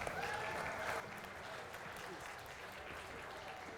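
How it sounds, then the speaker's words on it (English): Audience applause at a UK martial arts show, a dense, steady clatter of many hands clapping close by, slightly louder for the first second, then continuing evenly with a faint crowd murmur underneath. "Everybody please give Mike Stone a big round of applause."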